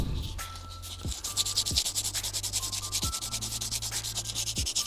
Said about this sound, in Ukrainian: Ось так от зашліфовую, щоб у нас фарба краще трималася.